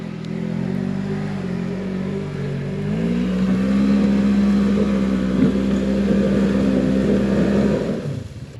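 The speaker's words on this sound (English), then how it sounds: "You in low with 4-wheel drive?" A four-wheel-drive off-road vehicle crawling in low range through deep ruts on an Appalachian Kentucky trail, its engine a steady loud droning hum that rises slightly in pitch and holds for several seconds, close up, then cuts off abruptly near the end.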